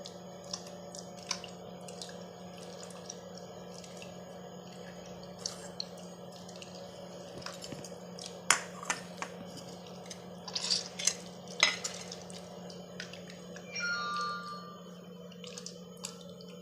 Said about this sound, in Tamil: புளி தண்ணி அதில் இந்த கத்திரிக்காயை நல்லா பிசைஞ்சிடணும்